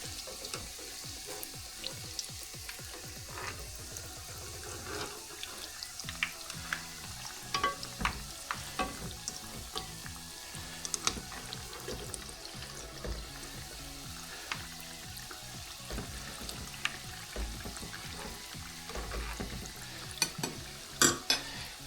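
Jam-filled pies fry in hot oil in a pan with a steady, close sizzle and crackle, with occasional soft stirring and scraping sounds over the top and no talking.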